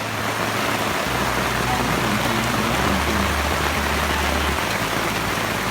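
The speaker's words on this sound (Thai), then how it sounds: "ฝนกำลังตกหนักมาก" Heavy rain pours down at a campsite at Khao Samorpoon, a dense, steady hiss of drops close by that continues unbroken throughout, with a low hum underneath.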